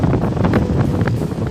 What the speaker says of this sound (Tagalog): medyo malakas ang hangin